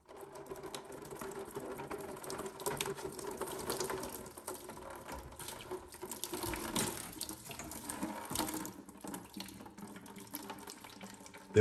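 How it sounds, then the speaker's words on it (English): Water draining from disconnected water softener pipes into a bucket below, an irregular splashing trickle with faint mechanical rattles and a sharp knock at the end, no speech. "I have a bucket sitting below here to catch some water because I believe there's going to be some water in here"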